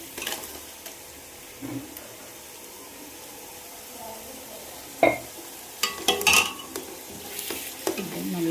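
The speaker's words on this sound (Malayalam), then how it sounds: "നല്ലപോലെ ഇളക്കി കൊടുക്കണം" Tomato paste frying and being stirred into masala for chicken biryani, a low steady sizzle with a few sharper spoon-scrape clinks toward the end, moderately close and fairly quiet, no talk.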